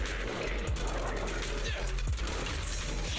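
Gunfire in the action video game Zenless Zone Zero: rapid repeated shots and impacts over continuous loud game effects and music, with character voices mixed in.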